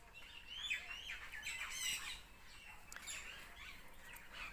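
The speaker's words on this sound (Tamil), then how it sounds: "ஆயிரக்கணக்கான பறவைகள் வந்து இந்த மரத்தில் இருக்குது அந்த பழத்தை சாப்பிட்றதுக்கு" Dense chorus of many birds squawking, chirping and tweeting together in a large, century-old banyan tree where they gather to eat its fruit, steady and lively throughout with overlapping calls.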